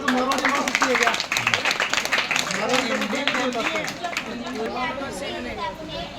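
A group of listeners, likely schoolchildren, claps after a story is told, brief scattered hand claps mixed with lively chatter and overlapping voices throughout.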